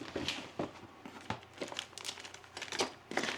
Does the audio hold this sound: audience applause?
no